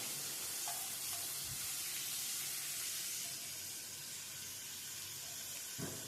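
Finely chopped onion sizzles in hot oil with whole cumin seeds in a pan, a soft, steady frying hiss close by with a couple of faint clinks of a utensil and no speech.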